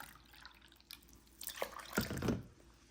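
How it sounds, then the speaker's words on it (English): Water poured into a cooker holding washed moong dal and toor dal, a few soft splashes and drips that build into a louder pour toward the end, close by with no talk. "Wash it, and I'm going to add 2 cups of water"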